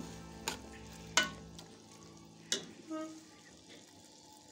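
Spices and meat for Afghani tendiyan gosht sit in a pan and are mixed with Kashmiri red chilli. Sharp spoon clanks and stirring scrapes stand out over a quiet background sizzle, with brief pauses and no speech.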